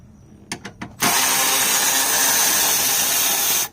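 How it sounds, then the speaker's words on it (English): A 24 volt Cobalt 3/8 cordless ratchet spins a bolt during a 2014 Ford Focus 2.0 battery replacement: a few short clicks, then a loud, steady whirring run lasting under three seconds, close up. "Tools I'm using is a 24 volt max Cobalt 3/8 ratchet."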